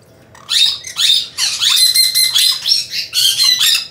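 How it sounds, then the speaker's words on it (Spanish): Pair of painted conure parrots (Pyrrhura picta) in an aviary, giving repeated loud, harsh squawks and screeching calls in bursts, close and clear with no talking. "los conocedores ya deben saber que es el Painted Conure, el pirrura picta o picta picta"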